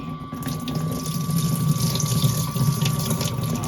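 Mung beans being washed under running water: a steady rush of tap water and sloshing at moderate loudness throughout.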